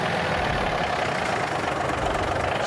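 A truck's diesel engine idles close by with a steady, even rumble and no other sound over it.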